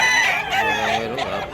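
A young stag rooster crows once up close, a loud strained call rising and trailing off over about a second, with faint background chatter.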